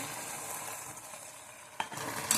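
Paneer chilli sauce thickened with cornflour slurry is stirred in a hot pan, giving a steady soft sizzle with light scraping and a couple of sharper spoon knocks near the end, with no talking.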